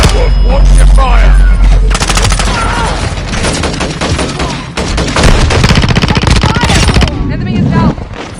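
Heavy gunfire in Call of Duty Modern Warfare 2, loud rapid machine-gun bursts crackling almost continuously with brief dips, under shouted voices.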